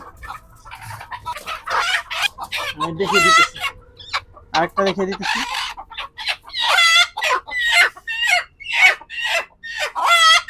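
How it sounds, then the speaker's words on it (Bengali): Desi chickens being given Ranikhet vaccine eye drops cluck and let out loud, repeated squawks in close bursts, and someone speaks briefly between the cries. "মুরগির সমস্যা হচ্ছে মুরগির চিল্লাপাল্লা করে বেশি"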